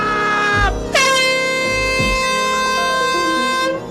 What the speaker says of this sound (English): Air horn jump scare.